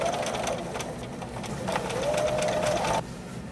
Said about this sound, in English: Starting where I left off and sew down to where I started.